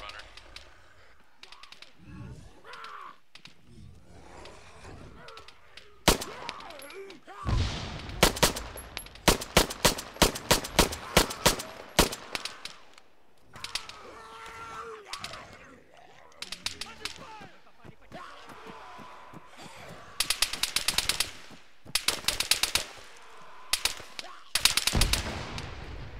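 Rapid automatic gunfire in a PC military video game during a 7Cav Malden event, loud clustered bursts and single shots recurring throughout, mixed with team voice chat.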